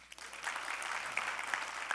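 Audience applause in a large talk hall, dense steady clapping from many hands sustained throughout, moderately loud with no talking over it.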